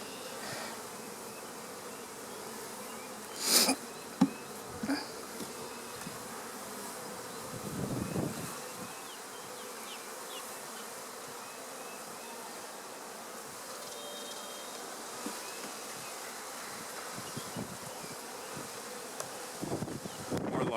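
Honeybees buzz in a continuous, faint hum during a hive inspection, with occasional louder passes of single bees close by and small handling knocks.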